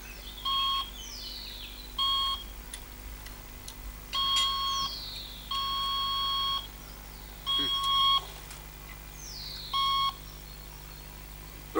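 A mobile phone rings outdoors in the countryside, repeating short electronic beeping bursts in an even pattern, fairly clear over a low background hum.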